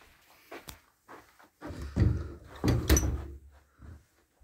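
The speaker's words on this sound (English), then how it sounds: "I'm just going to shut the door." A door being shut indoors: a cluster of close, loud knocks and rattles with two heavier thuds near the middle and a softer bump at the end, heard alone with no talk.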